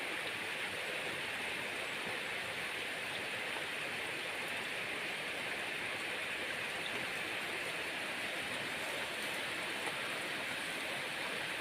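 Steady, dense rainfall hisses evenly throughout on a cattle pasture where cows shelter, a constant wash of drops with no pauses and no voices.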